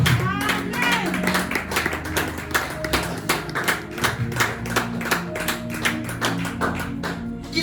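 A church congregation claps in a steady rhythmic beat, close and lively, with singing and music running underneath the clapping throughout.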